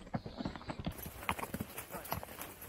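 Hooves of a galloping horse thud and clop in a fast, uneven rhythm, fairly faint and steady, with wind noise around them and no clear voices.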